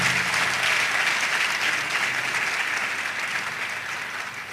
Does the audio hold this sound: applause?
yes